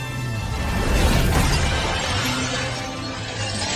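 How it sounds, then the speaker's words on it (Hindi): Glass shatters loudly in a movie scene as a bald man crashes into it, a bright burst of breaking glass over a dense rumbling score that continues after the crash. "लेकिन गंजा आदमी कांच से टकरा गया"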